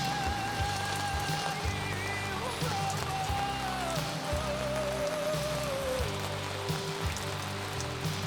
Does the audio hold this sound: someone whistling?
no